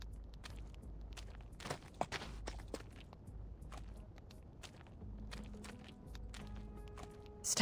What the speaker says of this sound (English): Staggering footsteps, almost limping.